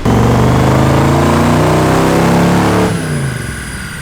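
A Nissan Z32 with an LS1 V8 swap revs hard on a dyno, a loud sustained mid-pitched roar holding steady for about three seconds before dropping off as the throttle closes.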